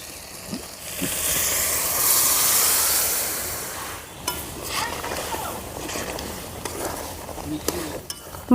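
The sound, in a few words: chicken stirred with boiled tadka dal in pan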